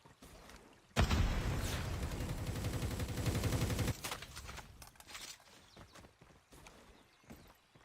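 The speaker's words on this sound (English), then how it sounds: "Grenade out." A grenade blast and gunfire in the mobile shooter Call of Duty Mobile: a sudden loud burst of rapid shots lasting about three seconds, then scattered fainter pops and distant gunfire.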